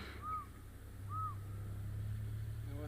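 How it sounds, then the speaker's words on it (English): African fish eagle calling during a sunrise safari drive, two short arching cries spaced about a second apart over a steady low engine or vehicle rumble, moderately distant and clear. "there's a beautiful fish eagle calling in the background"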